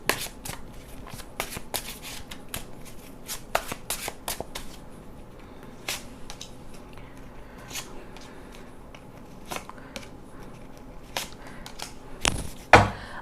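Tarot cards shuffled in repeated soft riffling bursts with sharp flicks and taps, close and fairly quiet, with no talking over them.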